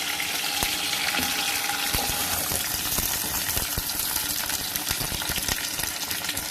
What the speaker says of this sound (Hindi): ये जो प्याज है इसको करेंगे हम हल्का सा फ्राई।